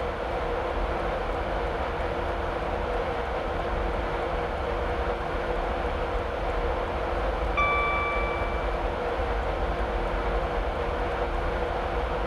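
A Class 91 electric train coasting with power cut in Train Simulator 2016 on the East Coast Main Line near Morpeth, giving a steady, even rolling rumble and wheel noise throughout with a brief faint tonal whine partway through.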